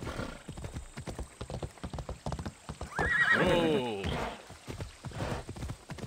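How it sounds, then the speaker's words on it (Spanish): A horse in the video game Assassin's Creed Odyssey trots with rhythmic clip-clopping hooves throughout, then lets out a loud, close whinny midway before the hoofbeats carry on. "Caballo."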